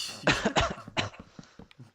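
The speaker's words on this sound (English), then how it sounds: "I needed to cough so badly" Three harsh coughs in quick succession, close and fairly loud, followed by a few softer throat sounds.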